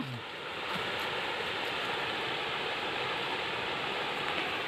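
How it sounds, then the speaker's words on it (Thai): A flowing stream gives a steady, broadband rush of water that runs unbroken and fairly close, with no voices over it. "น้ำไหลพี่น้องเลย"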